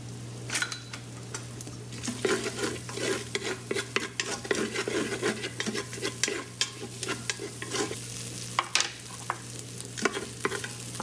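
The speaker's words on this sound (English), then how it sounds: "I'm going to go ahead and saute my onions." Onions sauté in a hot Instant Pot, a steady sizzle broken by frequent scraping and clinking strokes of a spoon stirring against the pot.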